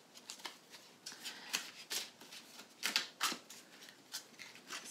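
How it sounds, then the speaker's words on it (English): Tarot cards being shuffled by hand, a run of crisp riffling and flicking bursts that come close together and fairly near, with no voice over them. "Let's pull some more cards for this"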